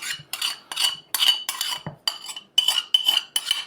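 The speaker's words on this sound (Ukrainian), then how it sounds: "суміш ми нашу перемішали і виливаємо її в наші гомілочки" Honey-soy marinade being mixed over chicken drumsticks in a bowl, a rapid series of short metallic clinks and scrapes from a utensil in quick rhythmic bursts, close and clear without speech.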